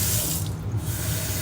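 Tap water runs steadily into a glass container holding tofu, a loud, close, continuous sink-filling gush with no talking.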